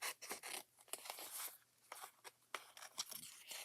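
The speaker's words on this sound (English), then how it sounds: "I'm just going to cut this with my scissors" Scissors cut through paper cardstock for a folded card, a quick run of crisp snips and scraping slices close to the mic, with no talking.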